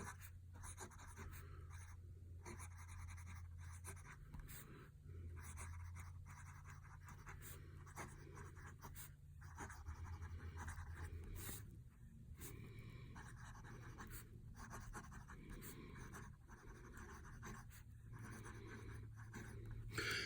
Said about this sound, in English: So just to give you an idea of what this pen can do, and what this ink can do,